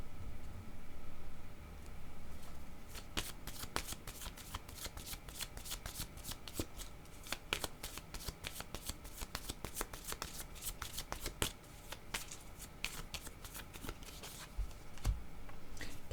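Cards shuffled for a card reading, a quick run of crisp riffling flutters and flicks close up and fairly quiet, repeating in bursts.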